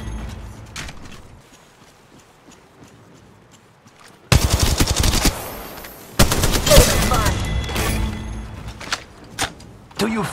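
Gunfire in the mobile battle royale game Apex Legends Mobile on the Olympus map: after a quiet stretch, loud bursts of rapid automatic fire erupt, then a second sustained volley with sharp cracks continuing to the end.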